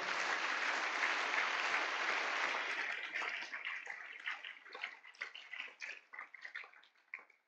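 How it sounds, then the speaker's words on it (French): A church congregation at a Sunday service claps loudly in a dense, sustained wash of applause that thins into scattered individual claps as it fades. "Est-ce que tu peux acclamer très fort pour le roi de gloire?"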